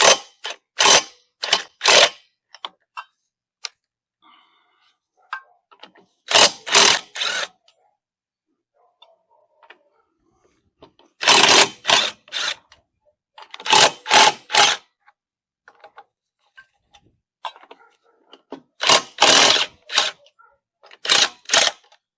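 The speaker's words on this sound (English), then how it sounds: "just loosen the lugs a little bit before I jack it up" A ratchet loosening the lug nuts on a car wheel before the car is jacked up, heard as bursts of rapid close clicking separated by quiet pauses.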